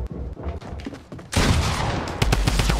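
Rapid drum gun fire in Fortnite Battle Royale, a dense, loud burst of shots that starts partway through and keeps going to the end, after quieter scattered game noise.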